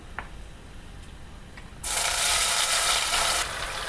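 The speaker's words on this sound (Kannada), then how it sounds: "ಆವಾಗಲೇ ಮಿಕ್ಸ್ ಮಾಡ್ಕೊಂಡಿರುವಂಥ ಪನ್ನೀರ್ನ ಇದಕ್ಕೆ ಹಾಕೊಳ್ಳೋಣ." Paneer mixture dropped into hot oil in a pan, a sudden loud, bright sizzle that bursts in partway through and holds steady, following quiet kitchen clinks.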